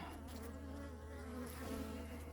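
Defensive honeybees swarm around a beekeeper, a continuous close droning buzz of many insects, quiet but steady throughout with no talking.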